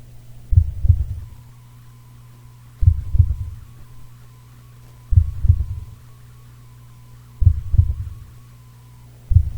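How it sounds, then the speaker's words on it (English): A heartbeat sound effect from an emergency center advertisement, with four evenly spaced double thumps, deep and loud, over a low steady hum and no talking. "We're here for the moments that are measured in heartbeats."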